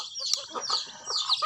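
Chickens and a young chick cluck and peep close by in a rural yard, several short overlapping calls in quick succession, with no talking.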